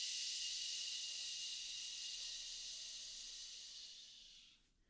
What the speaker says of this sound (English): And exhale on a shh.